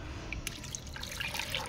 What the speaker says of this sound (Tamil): இப்போ வந்துட்டு கொஞ்சம் தண்ணி ஊற்றலாம்